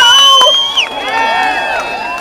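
Crowd at a No Kings rally in Albuquerque cheering and whooping, with high shouts and whistles rising over a dense, loud roar.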